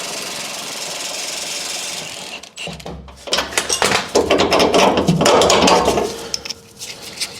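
A wrench or impact tool working loose the top shock bolt on a Ford F150 during a rear lift block install, a steady hiss giving way to rapid rattling, clattering bursts close by.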